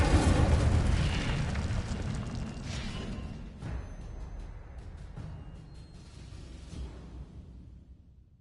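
The Incendio fire spell is cast in the video game Hogwarts Legacy, opening with a loud, close fiery burst that rumbles and slowly fades away into quiet.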